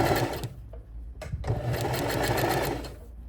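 An overlock sewing machine runs steadily while stitching along a fabric edge, a close, loud, fast mechanical whir with a couple of brief pauses between bursts.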